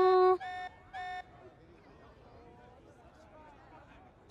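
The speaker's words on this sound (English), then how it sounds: "This alarm's worrying." An alarm blares in the video game Xenoblade Chronicles 3, three short, loud electronic tones in a pulsing sequence, followed by quieter background game sounds and a final burst.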